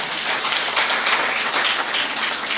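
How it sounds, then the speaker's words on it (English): Audience applause at a staff retreat and award ceremony for Mr. Kamara, a dense, even roar of many hands clapping, loud and continuous throughout. "can we once again give him a round of applause?"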